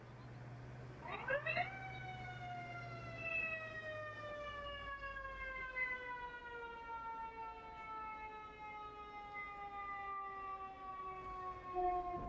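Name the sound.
fire brigade and police vehicle sirens in Istanbul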